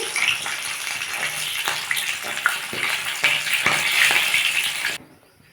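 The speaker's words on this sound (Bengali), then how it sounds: "দেখুন বন্ধুরা আমার মাছটা ভাজা হয়ে গেছে এই মাথাটাও ভেজে নিচ্ছি" A rohu fish head fries in hot oil, giving a loud, dense crackling sizzle with scattered pops close up that drops away sharply at the very end.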